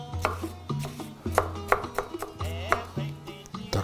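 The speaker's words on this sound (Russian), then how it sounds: "Ну что, нарезаем помидоры." A knife chops tomatoes repeatedly against a cutting board in an uneven rhythm of sharp knocks, close by, with a low hum underneath.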